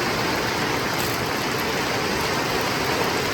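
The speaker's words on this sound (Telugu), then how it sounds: "వర్షం అయితే మామూలుగా పడతలేదు." Heavy rain pouring down, a dense, loud, unbroken hiss of falling water filling the whole stretch, close and steady, with no voices.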